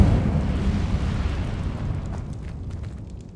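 A fire spell is cast in the video game Hogwarts Legacy. It gives a loud, roaring whoosh of flame that fades gradually over a few seconds, with no talk over it.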